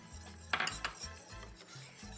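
Egg yolks are stirred into chocolate soufflé batter in a bowl, the spatula clinking and scraping in short uneven strokes. The sounds are quiet and close, with no talk.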